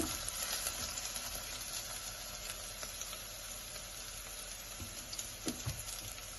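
Oil sizzling steadily in a pan while cheese pasta is being cooked, an even crackling hiss that carries on throughout with a few light clinks near the end.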